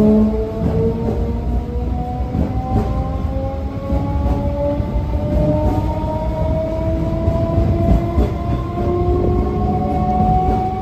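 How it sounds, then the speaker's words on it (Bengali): A train runs loud and close at Namkhana railway station, a continuous heavy rumble with sustained rising tonal whines and squeals from the wheels or brakes throughout, no voices. "3টের সময় আমাদের ট্রেন অলরেডি দিয়ে দিয়েছে"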